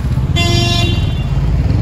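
A car horn honks once, about half a second long, over the constant rumble of street traffic at a busy intersection on Simon-Dach-Straße in Berlin-Friedrichshain.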